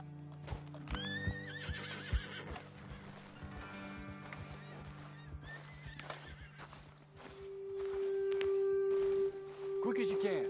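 Horses in Red Dead Redemption 2 snort and whinny at a roadside ledge, hooves clopping and shifting close by after the riders dismount. A long high whinny rises near the end, with ambient outdoor sound beneath.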